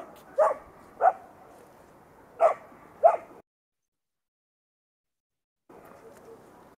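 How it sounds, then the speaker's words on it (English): Recorded dog barks played back in a classroom, four short separate woofs spaced about a second apart, then a pause of silence and a faint soft murmur near the end. "Dog."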